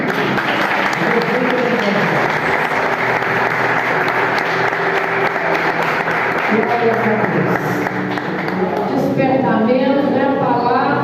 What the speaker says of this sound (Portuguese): E agradeço a Deus pela oportunidade, peço a você que aplauda Jesus, irmão.